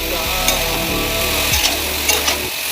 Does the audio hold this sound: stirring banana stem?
yes